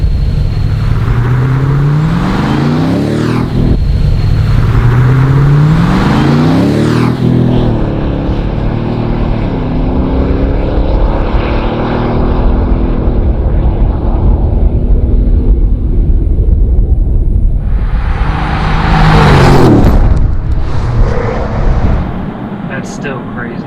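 Two Ford F250 pickups with 7.3L engines, one stock at 430 hp and one modified to 700 hp, race off the line in a drag race, their loud rising engine roars sweeping upward through gear changes, with a second surge near the end and talk over it.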